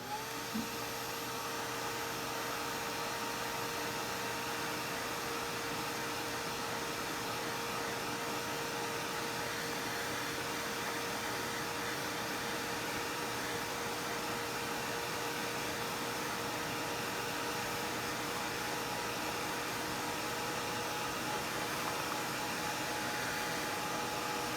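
A hair dryer blows steadily at close range to dry watercolor paint on a fall pumpkin painting, a continuous loud whirring hiss with a faint tonal whine that holds unchanged throughout.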